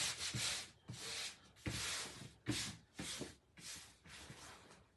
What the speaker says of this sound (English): I am smoothing out all the wrinkles because it's just sticking